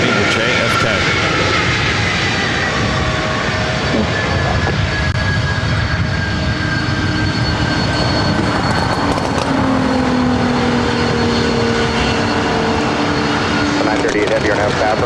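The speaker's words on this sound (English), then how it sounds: "Another 767-300ER heading to JFK." Boeing 767-300ER jet airliner taking off from LAX, a loud sustained engine roar with rising and sliding whining tones as the power builds and the jet passes, voices faintly beneath.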